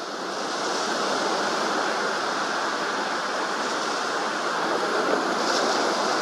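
Steady, dense roar of ocean surf and moving water at Myrtle Beach, continuous and fairly loud throughout with no distinct breaks between waves and no voices.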